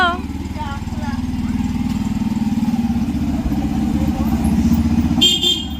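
A motorcycle with a mother riding pillion runs close by, its engine a steady, pulsing drone that climbs slightly as it pulls away, while people talk over it.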